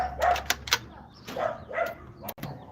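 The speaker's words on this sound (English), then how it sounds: "And my dog is wanting to play." A dog wanting to play gives several short barks and yips outdoors in a yard, at moderate distance, in uneven bursts separated by brief pauses.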